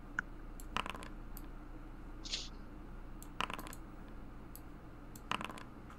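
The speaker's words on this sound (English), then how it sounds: "Stop rolling dice" Dice rolled during a tabletop Dungeons & Dragons session, heard as a few sharp clattering bursts spaced seconds apart over a steady low room hum.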